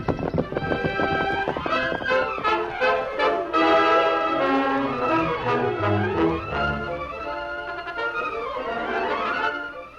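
Horses galloping as a radio drama sound effect in an old Lone Ranger western serial, a quick, steady drumming of hoofbeats heard loud and close alongside swelling orchestral music.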